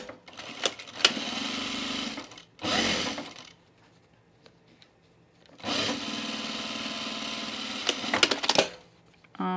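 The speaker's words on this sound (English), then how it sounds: "we're going to sew the fly shield here, right sides together" A sewing machine stitches the curved fly shield of men's chino pants, right sides together through bulky layers, in two long steady runs separated by pauses with small handling clicks and taps.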